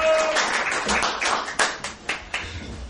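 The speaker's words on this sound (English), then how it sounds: "Big round of applause." Audience applause at a poetry reading event, a dense spread of clapping hands that thins toward the end into a few separate claps, close and fairly loud.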